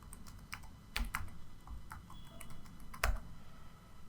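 Quiet computer keyboard keystrokes as a password is typed, scattered clicks at an uneven pace with a couple of firmer key presses.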